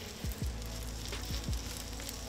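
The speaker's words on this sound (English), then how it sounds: "Ooh, nice little sizzle going on." Melted butter sizzles softly in a frying pan, ready for pieces of mahi-mahi. A faint, steady crackling hiss is broken by a few dull knocks from the pan.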